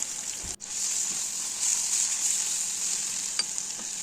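Mashed sweet potato roasts in a pan with cardamom, giving a steady, even sizzle close by, with one brief thump near the start and faint stirring scrapes.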